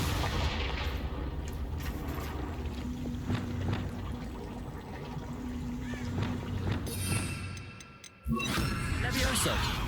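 A fiery Confringo spell blast in Hogwarts Legacy, a heavy rumbling, roaring burst with booming crackle that runs for several seconds, then cuts off briefly before the noise surges back.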